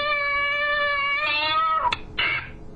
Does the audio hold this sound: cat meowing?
yes